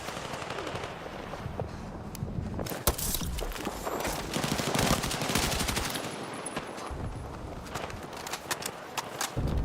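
M60 machine gun firing in the Battlefield 6 video game, dense rapid bursts of loud gunfire filling the clip alongside heavy battle noise and footstep-like clatter.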